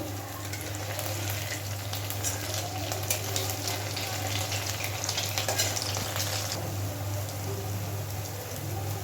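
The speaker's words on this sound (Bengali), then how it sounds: "একটা দিক হালকা ভাজা হয়ে গেছে। খুব হালকাভাবে একটু নাড়িয়ে দেব।" Homemade tea-time snacks frying in oil as they are gently stirred, a dense steady sizzle like rain with soft scraping stirs and a constant low hum beneath.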